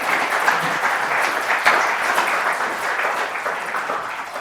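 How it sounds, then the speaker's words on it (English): Sustained applause from a lecture audience for two speakers, a steady dense wash of clapping that holds at even loudness from start to finish with no voices over it. "Let's give another round of applause for both of our speakers."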